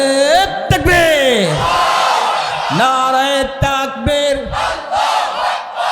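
At a Bangla Islamic rally, a large crowd roars back in unison to the Nara-e-Takbir call, loud rhythmic shouted chants with rising and falling voiced tones, the leader's voice and the mass response alternating in close succession.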